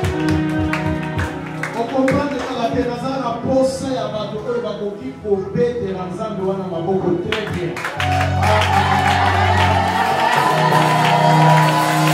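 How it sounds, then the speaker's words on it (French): A crowd cheers and shouts continuously over loud music, with whoops rising above the din and the noise swelling stronger toward the end. "milieu des acclamations"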